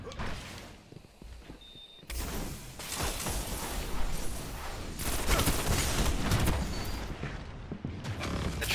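Rapid bursts of gunfire in a Destiny Trials match ring out loud and close, layered with clanks and impacts and denser shooting in the second half.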